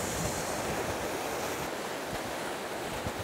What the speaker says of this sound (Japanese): さっきからごっつい波が来てるから